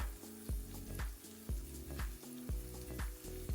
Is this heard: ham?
yes